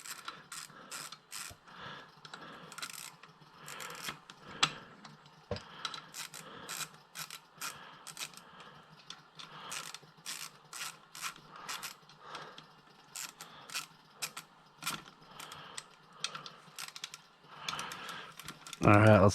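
A ratchet clicks in repeated short bursts as bolts are tightened during a motor rebuild, close and fairly quiet, with someone speaking now and then between the clicking.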